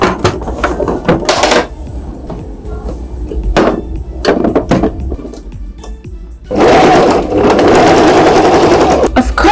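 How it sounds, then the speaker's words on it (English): A sewing machine stitches tie-dye fabric in rapid mechanical bursts, stopping and starting, then running steadily and loudly for the last few seconds; no one speaks. "So I'm going to commit to sewing for 30 minutes to an hour every day."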